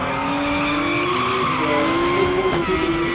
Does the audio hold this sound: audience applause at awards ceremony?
no